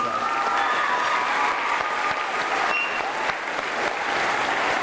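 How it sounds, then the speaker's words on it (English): Sustained applause from a school audience at a middle school Veterans Day ceremony, honoring the ROTC; dense, steady clapping fills the whole stretch at an even level. "can I get a round of applause for the ROTC"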